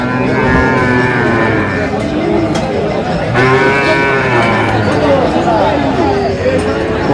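A Sahiwal bull moos loudly in long, drawn-out calls, one after another, over the chatter of a crowd nearby at a cattle market.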